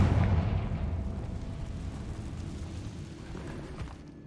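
A Confringo fire spell explosion in the Hogwarts Legacy video game: a heavy blast bursts out at the start, then a deep rumbling roar trails off over several seconds with no speech.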